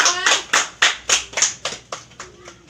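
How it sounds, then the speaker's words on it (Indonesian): A classroom of students applauds a classmate, a burst of hand clapping with several sharp claps rising then thinning out over a few seconds. "Beri aplaus pada Dwi ya."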